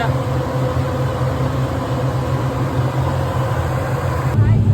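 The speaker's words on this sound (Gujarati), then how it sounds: "બોટ ચાલુ થઈ ગઈ છે." A boat engine runs on the crossing from Bali to Nusa Penida island. It makes a loud, steady, close mechanical drone that holds even throughout.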